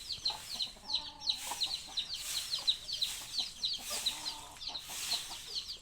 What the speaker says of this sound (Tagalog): May bagong anak na manok.